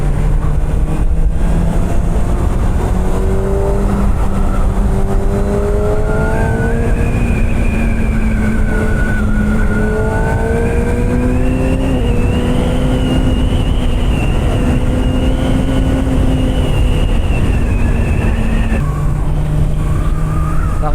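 A Kawasaki ZX-6R with stock exhaust rides through the night, its engine whine rising and falling through repeated gear shifts under steady wind roar, close and loud throughout.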